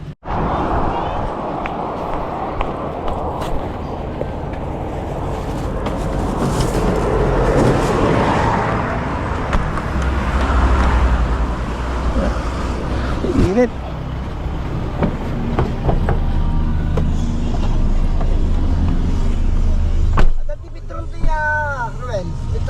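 Toyota Hilux 4x4 pickup cruising on a road, a steady low engine and road rumble filling the cabin throughout while people talk and laugh inside.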